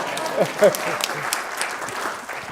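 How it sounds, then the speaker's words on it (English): Brief applause from an audience at a public talk, a short patter of clapping with murmuring crowd sounds and scattered voices. "Applaud the lady."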